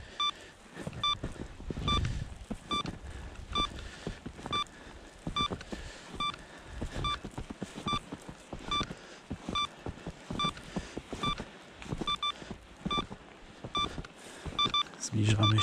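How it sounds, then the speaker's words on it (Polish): An avalanche beacon picking up a signal, sending out short high beeps in a steady regular rhythm, with someone talking throughout in an outdoor snowy setting, wind and rustling in the background. "Jest sygnał. Zaczął pikać regularnie."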